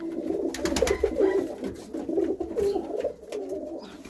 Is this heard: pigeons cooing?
yes